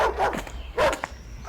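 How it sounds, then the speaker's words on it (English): A dog near an old Soviet factory in Romania lets out two or three short, sharp barks in quick succession, fairly close, over low background noise. "If I'm gonna hear any more dogs barking"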